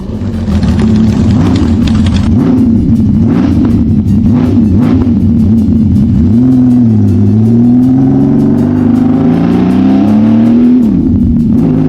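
A loud six-cylinder Benelli motorcycle engine revs and drops repeatedly, then holds a smooth, high, metallic, harmonic howl before easing off, close and continuous throughout.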